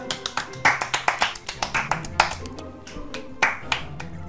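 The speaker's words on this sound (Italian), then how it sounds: "Applausi!" A few people clap in a quick uneven burst, close and crisp, during a Pokémon game session, with a voice briefly heard among the claps.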